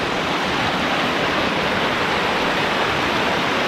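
A mountain creek rushes beside a lodge in Aspen, Colorado, a loud, steady broadband roar of flowing water close by with no voices.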